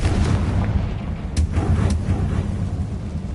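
A Confringo fire spell from Hogwarts Legacy bursts in a pair of sharp, loud explosive cracks over a steady low rumbling game background.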